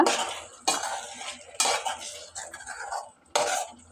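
Mango thokku mixture being stirred in a pan, a close, scraping spoon-on-metal sound in four separate bursts with short pauses between them.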